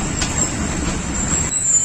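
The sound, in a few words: Hazara Express train on single railway line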